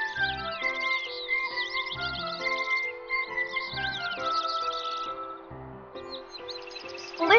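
Birds sing in a flower-filled forest in the video game Kingdom Hearts 3: bright, high chirps and trills layered over soft game music, loud and close, continuing throughout without talk.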